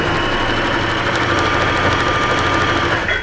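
A sewing machine runs steadily, stitching a sculptural bucket-style coat close to a black section, its continuous motor whir and rapid needle chatter filling the whole stretch without pause.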